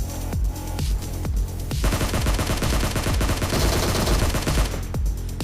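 Rapid bursts of gunfire in the PUBG battle game, dense automatic rattling shots crowding the middle of the clip, with separate single cracks before and after, loud and close throughout.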